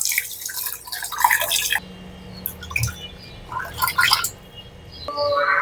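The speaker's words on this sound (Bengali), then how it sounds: "এবার আমি চাপা শুটকিটাকে ভালো করে পরিষ্কার করে ধুয়ে নিব।" Chapa shutki dried fish being washed in water, with dripping, splashing and gurgling water sounds coming in irregular bursts close by.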